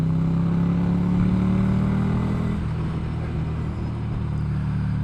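A 2015 Ducati Scrambler 800cc motorcycle riding along, a steady engine rumble with a drop in revs and a gear change partway through, close and continuous under wind.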